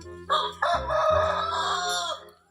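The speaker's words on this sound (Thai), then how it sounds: "ไก่กำลังขัน" A rooster crows loudly and close by before dawn, around 5 a.m., one long drawn-out call with a rising start and a sustained wavering middle.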